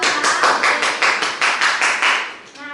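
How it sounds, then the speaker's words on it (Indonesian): Classmates clap for a student in an Indonesian classroom lesson, a short burst of quick, rhythmic hand claps close by, loud and evenly paced before trailing off. "Tepuk tangan buat Aura"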